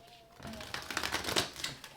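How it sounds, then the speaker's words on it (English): A deck of cards being shuffled, a quick flurry of riffling clicks that builds and fades over about a second, with soft talk nearby. "Okay, one more shuffle."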